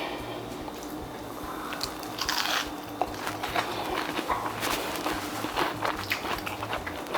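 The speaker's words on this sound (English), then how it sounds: "The shrimp, the crunchiness, the taste of the coconut" Someone bites into crunchy fried coconut shrimp and chews close up, with soft crunching and moist squishing sounds in an irregular rhythm, no talk.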